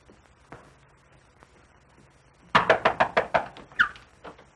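A run of about seven firm, evenly spaced knocks lands on a door in a 1942 mad scientist werewolf horror film, close and sharp after a quiet stretch, with a stray final rap.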